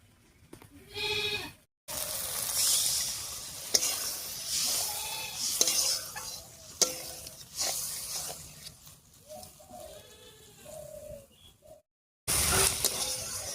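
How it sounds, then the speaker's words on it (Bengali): Spice paste frying in a pan with cabbage cooking water sizzles and spits in uneven bursts, with stirring scrapes and short gaps of near silence, close and moderately loud. "এবারে বাঁধাকপি সেদ্ধ করার পর যে জলটা ছিল সেই জল দিয়ে একটু কষিয়ে নেব"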